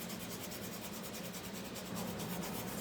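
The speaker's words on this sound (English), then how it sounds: "Just a light little sand." Light hand sanding of a wooden polar bear DIY kit gives a quick, even series of soft scratchy rubbing strokes, close and fairly faint, with no voices.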